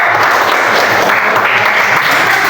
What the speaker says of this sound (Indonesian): Kasih aplaus untuk tim mereka.